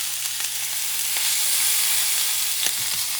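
Bison sirloin steaks sizzle steadily in a hot pan, a dense, continuous crackling hiss with a few sharp pops, close and fairly loud with no voices.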